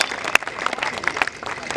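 An audience clapping in honor of the Rewa police, a lively, uneven patter of hands with sharp individual claps popping out near the listener and a few faint voices mixed in.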